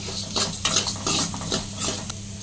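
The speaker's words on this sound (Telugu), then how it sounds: "లో టు మీడియం ఫ్లేమ్లో పెట్టుకుని ఫ్రై చేసుకోండి" Curry leaves fry and crackle in a pan over low to medium flame while a spoon stirs them in steady scraping strokes, the sizzle close and constant throughout.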